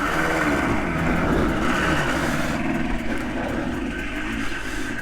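A 1982 Yamaha RD 200 two-stroke motorcycle engine runs loud and close, its buzzy note rising and falling steadily through the revs with no talking.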